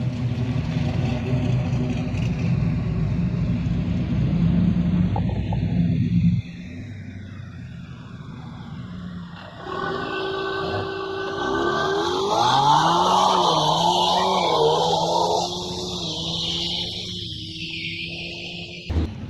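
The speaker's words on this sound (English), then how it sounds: "We just made the first run into David's Mustang" A Ford Mustang engine with a cold air box roars and revs hard on a drag strip, rising in pitch through gear changes, loud and close, then drops away briefly before settling into a steady drone.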